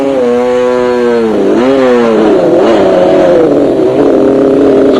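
Off-road racing motorcycle engine at the 1998 Tarkastad off-road race in South Africa, loud and close, revving up and down in rising and falling sweeps as the rider works through muddy ground.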